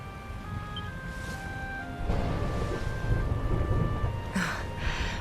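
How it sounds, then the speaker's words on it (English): Thunder rumbles low and rolling through steady rain in Dragon Quest XI, a long swelling crash building midway and fading, with soft musical tones drifting over the storm. "Would you look at it thundering away out there?"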